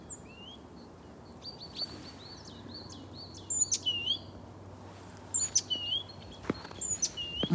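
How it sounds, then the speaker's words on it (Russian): Several birds chirp and tweet outdoors in short, repeated phrases, fairly close, over a soft steady background hum; calls grow busier toward the end. "Птички поют."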